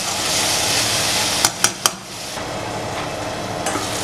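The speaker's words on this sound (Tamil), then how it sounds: "நடுவில் எடுத்து கிளறியும் விடலாம்." Yam curry frying in a pan, a constant close sizzle interrupted by three sharp utensil knocks and scrapes as it is stirred, then a couple of softer taps, with no talking.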